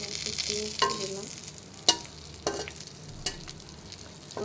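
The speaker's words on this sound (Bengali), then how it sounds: "এখানে দেড় চা চামচ বাটার নিয়ে আমি তিনটা ভাজতে দিয়ে দিলাম" Fish kebabs frying in about one and a half teaspoons of butter in a pan, a steady close sizzle broken by several sharp knocks and scrapes of a utensil, with no talk.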